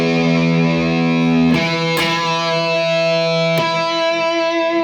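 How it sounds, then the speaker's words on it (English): Distorted electric guitar solo from a song, sustained loud notes held over a steady drone with a few sharp note changes, played alone without voice. "We then have a guitar solo, which sounds like this."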